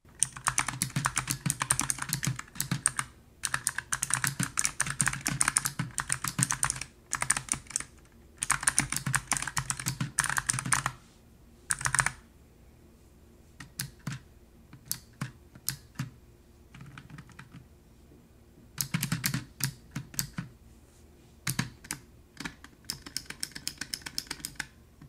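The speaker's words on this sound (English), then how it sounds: "Since we're talking about the switches, I might as well let you hear how they sound for yourself." Rapid keystrokes on a Razer Huntsman Mini optical gaming keyboard come in close, crisp bursts separated by short pauses, typing in a quiet room with no one speaking.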